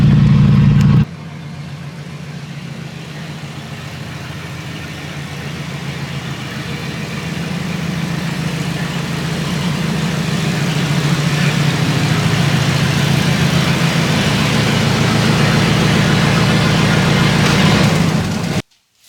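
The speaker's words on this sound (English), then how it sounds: "The Pontiac Wagon driving again for the first time in 3 decades." A 1977 Pontiac Grand Safari station wagon, left sitting for three decades, runs its engine with an open exhaust, a steady loud low rumble that grows gradually heavier before cutting off abruptly near the end.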